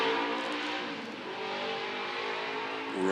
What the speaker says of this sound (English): let the motorcycle go by